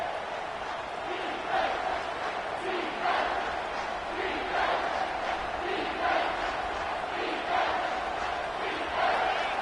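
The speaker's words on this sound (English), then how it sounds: "this crowd is bringing down the house" A packed football stadium crowd roars steadily during a third-down play, a dense continuous wall of cheering and yelling with rising swells, heard from within the stands.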